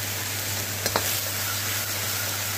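Chopped onion and green chili with cumin frying in hot oil in a kadhai, a steady close sizzle with a couple of brief stirring scrapes near the start.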